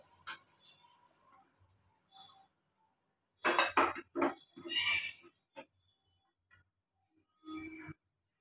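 Metal pots and utensils clink and scrape in short bursts as prawn gravy is poured from a pan, with quiet stretches between the clatters in a home kitchen.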